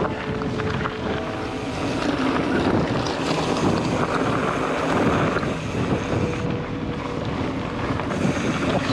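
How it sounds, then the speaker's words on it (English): Steady wind roars across open fields during a cross-country mountain bike ride in Dorset on a Nukeproof Scout V3, a loud continuous broadband rush of air buffeting the microphone throughout. "And the wind is picking up now, which is making it even harder."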